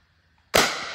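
A single sharp CO2 air gun shot, sudden and loud with a brief decaying tail, after near silence.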